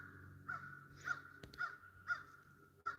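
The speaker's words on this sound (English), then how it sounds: "Hear that crow?" A crow caws outdoors five times in a steady, evenly spaced series, moderately distant and clear over a faint background hum, with one brief knock in the middle.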